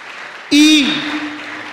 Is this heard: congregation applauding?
yes